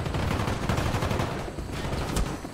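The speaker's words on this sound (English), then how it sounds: "We're taking heavy fire from the helicopters." Gunfire in the war shooter Call of Duty: Black Ops, loud dense bursts of automatic fire blending into a steady barrage, with a sharp louder shot near the end.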